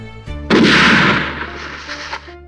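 A single loud gunshot in a slasher movie scene, a sharp close blast with a long ringing tail, after a low background tone.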